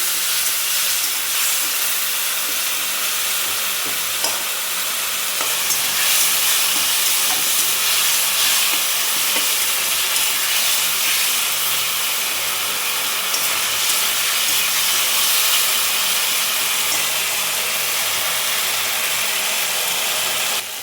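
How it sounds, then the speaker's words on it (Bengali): Spice paste of tomato, slit chili, salt, sugar, turmeric and ginger paste frying in oil, a continuous bright hissing sizzle held steady and close for the whole stretch, without speech. "এটাও আমি ভেজে নেব।"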